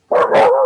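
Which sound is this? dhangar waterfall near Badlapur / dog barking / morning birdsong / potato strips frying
dog barking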